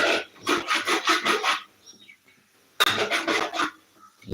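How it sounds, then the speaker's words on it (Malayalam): A utensil scrapes and stirs food in a pan while breakfast cooks, in quick rhythmic rasping bursts. A pause follows, then a second run of strokes. "നമ്മൾ നന്നായിട്ട് ഇങ്ങനെ ഇളക്കി കൊടുക്കണം"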